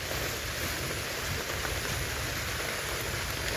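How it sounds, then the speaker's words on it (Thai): Steady rain falling outdoors on a rural Thai roadside, a dense, even hiss without pause, close and fairly loud throughout, with no voices. "ถ่ายบรรยากาศให้เบิ่งฝนตกพี่น้อง"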